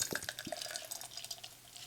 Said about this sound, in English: Let's go ahead and get it poured.